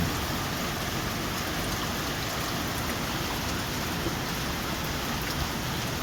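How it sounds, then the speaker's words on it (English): Heavy rain falls steadily during a tropical depression and shear line in the Philippines, a dense, constant hiss of downpour on surfaces that stays loud and unbroken throughout, with no voices. "It's just been off and on heavy rain."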